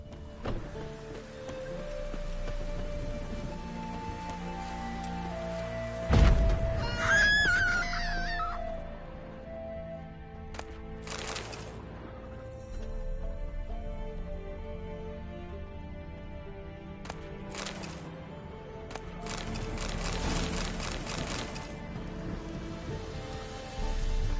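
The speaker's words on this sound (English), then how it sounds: "Puffballs have brought us rain." Rain falls steadily in The Witcher 3 on PS5, a soft continuous patter on surfaces, with a brief loud thump and some other game sounds breaking through.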